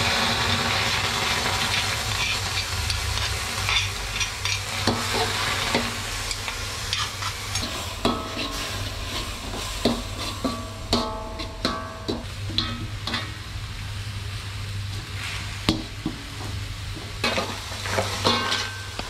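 Ingredients sauté in a pan for a crab coconut curry, with a continuous close sizzle and repeated scrapes and clinks of stirring throughout.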